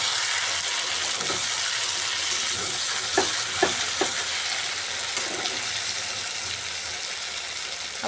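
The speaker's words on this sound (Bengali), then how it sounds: "নেড়ে চেড়ে কষিয়ে নেব।" Potatoes and chicken stirred and fried in a pan, a steady broadband sizzle throughout with a few soft scraping clicks of the spoon midway, close and continuous with no voices.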